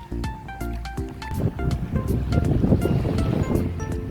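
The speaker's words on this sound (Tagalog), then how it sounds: "Lakas-lakas na ang alon." Strong sea waves wash over a swimming spot in a roughed-up, noisy surge, mixed with wind buffeting, after a few brief tonal bleeps at the start.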